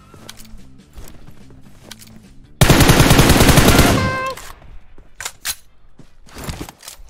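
A loud, fast burst of automatic gunfire lasting about a second and a half in the battle-royale game PUBG Mobile, on the Livik map, between quieter footsteps and scattered distant shots.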